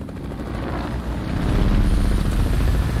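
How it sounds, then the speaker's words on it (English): A helicopter called down in the video game Fortnite throbs loud and close, with rapid rotor chop and engine whine building steadily over three seconds with no voices. "They called down a helicopter."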